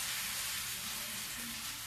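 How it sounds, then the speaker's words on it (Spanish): Plantain empanadas frying in hot oil give a steady, loud, continuous sizzle and hiss across the whole clip, with no voices over it. "así están friendo"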